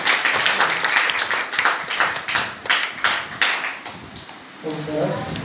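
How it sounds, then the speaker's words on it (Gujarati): Children and adults at a Gayatri Parivar children's Ramayana quiz award event clap and applaud to welcome a child forward, a sustained crowd of claps that fades toward the end while someone speaks over it. "વંશભાઈનું તાળીઓથી સ્વાગત છે."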